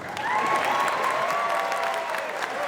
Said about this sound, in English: Is there anything that you would like to say to all the people that are applauding you right now?